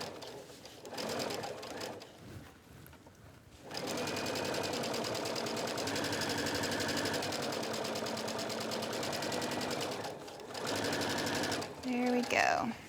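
Steady whir of a sewing machine stitching down the edge of the casing on a tank dress, running for several seconds with brief pauses before and after, with someone talking during the quieter stretches.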